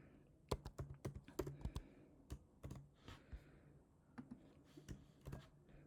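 Typing on a computer keyboard while setting up pagination in a Tableau dashboard: quiet, close clicking keystrokes in irregular bursts and short runs, with brief pauses between.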